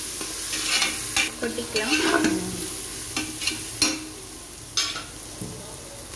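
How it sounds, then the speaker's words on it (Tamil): Ground tomato paste is sautéed in hot oil for tomato rice, a steady close sizzle with scraping stirring strokes over it; a brief spoken word appears early. "அந்த பேஸ்ட்டையும் போட்டு வதக்கலாம். போட்டு வதக்கிங்க."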